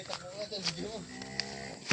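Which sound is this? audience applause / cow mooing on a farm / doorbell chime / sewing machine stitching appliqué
cow mooing on a farm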